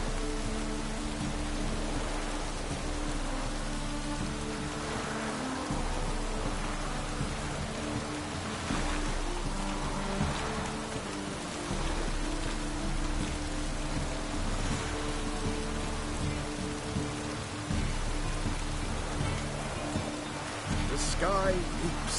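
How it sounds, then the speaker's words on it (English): Steady rain falling in a soft, continuous hiss, moderately distant, with a low rumble underneath and no clear talk. "Rains like this come sowing time."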